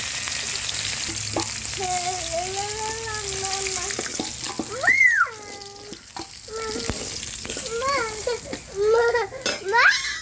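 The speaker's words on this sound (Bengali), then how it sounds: "মাছগুলো ভালো করে লাল লাল করে ভাজা হয়ে গেছে" Fish fries in hot oil in a Bengali home kitchen with a continuous, close, bubbling sizzle and occasional stirring clatter, while voices chatter over it throughout.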